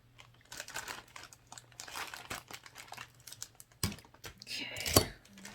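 A mystery bundle package being cut open, with crinkly plastic rustling and sharp snipping bursts close to the mic, ending in a louder tearing crunch.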